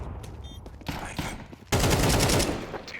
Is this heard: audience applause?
no